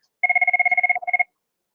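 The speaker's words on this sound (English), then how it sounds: "So y'all ignore that ringing in the background." A telephone rings in the background of an online class session, a rapid electronic trill of pulsing bursts lasting about a second, a tiny break, then a shorter burst, clear and alone.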